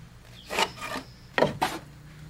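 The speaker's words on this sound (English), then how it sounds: "we're using this piece of rafter template. It has a 4 and 12 plumb cut on it, and we're marking our rafters" A pencil or template rubs and scrapes along wooden rafters while they are marked from a rafter template with a 4-in-12 plumb cut, giving two pairs of short, close rasping strokes with no talk.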